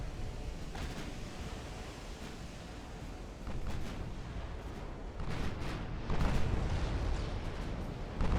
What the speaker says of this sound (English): There's a chance we might land one of our own torpedoes here from the rear of this battleship, which we did.